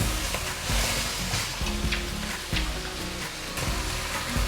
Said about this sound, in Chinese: 這裡我會翻炒久一點，讓苦瓜真的有被炒到焦香的感覺，